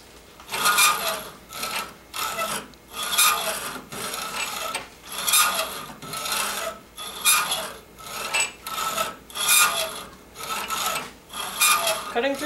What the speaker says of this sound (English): Cutting through with a hacksaw can take time